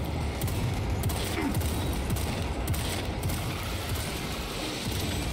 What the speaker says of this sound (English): Stop shooting me with that shit.